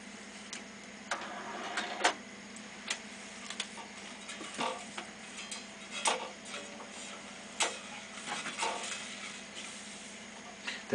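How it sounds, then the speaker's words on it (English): A Studer A820 reel-to-reel tape recorder makes irregular mechanical clicks and ticks over a faint motor hum as its tension arms and pinch roller move into position, quiet and close. "this moves into position your tension arms, your pinch roller"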